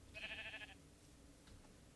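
One short bleat from a sheep in the video game Minecraft, a clear nasal cry lasting under a second over a quiet background.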